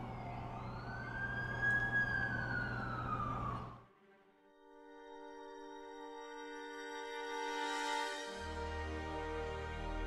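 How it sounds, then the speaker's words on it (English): A wailing ambulance siren in The Amazing Spider-Man 2 video game, a loud sweeping tone for about four seconds that cuts off, followed by a steadier, fainter wail over game music. "That's the ambulance I called."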